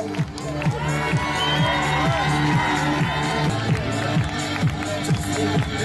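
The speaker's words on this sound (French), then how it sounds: "Applaudissez-le." A crowd cheers and applauds at a charity running race held for the French Rett syndrome association, with a steady thumping music beat underneath and a voice speaking over the din.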